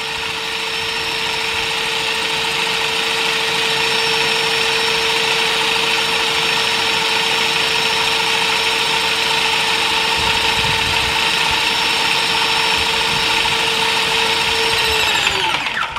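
A continuous mechanical whine with a steady hiss from an airless spray gun spraying out water nonstop, loud and close, winding down at the very end.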